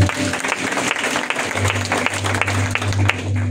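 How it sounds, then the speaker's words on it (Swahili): Audience applause at a funeral gathering: a dense, steady patter of many hands clapping over a low electrical hum, continuing for several seconds with no speech. "Ninaomba tuwapigie makofi."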